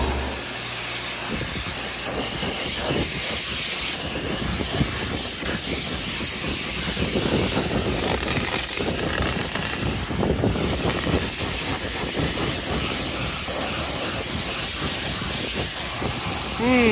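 Air hissing from a compressor hose that came off, a loud, steady, broadband hiss running unbroken for the whole stretch, close by, with a brief voice near the start.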